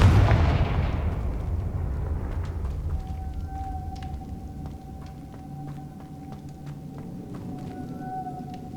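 The Confringo explosive spell in the video game Hogwarts Legacy goes off with a loud burst that decays into a low rumble, followed by a thin, sustained ringing tone and scattered sharp clicks.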